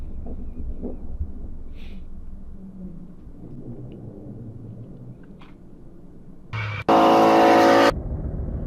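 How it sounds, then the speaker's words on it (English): The TurboShed drift car at Teesside rumbles and revs through a long smoky drift, its engine building from a low drone to a loud, harsh, sustained roar close by near the end. "And a nice big smoky drift."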